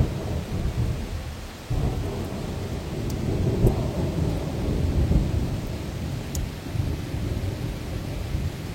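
A thunderstorm over Lyon in June, with continuous heavy rumbling thunder rolling under steady rain, loud and sustained throughout with no voices.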